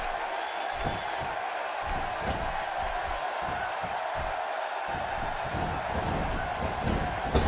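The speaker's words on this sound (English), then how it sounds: "by the sound of this crowd, I think they're getting what they wanted" A wrestling arena crowd at a King of the Ring event keeps up a steady roar of cheering and whooping, dense and continuous throughout.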